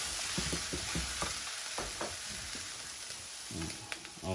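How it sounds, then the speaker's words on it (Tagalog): Turkey breast sautés in a pan with a bright, constant sizzle, while a utensil scrapes and knocks in short, uneven strokes close by. "turkey breast para maigisa din"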